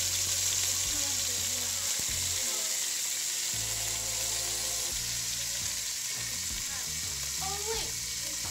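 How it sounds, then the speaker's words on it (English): Pork short ribs searing in a hot pan for pepián, a continuous close sizzle and crackle with a low hum beneath and a brief voice near the end. "Okay, Mateo, now that we seared it, look at the color that we got on it."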